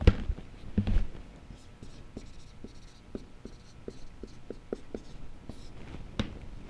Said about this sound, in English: Let me see if I can write this down for you.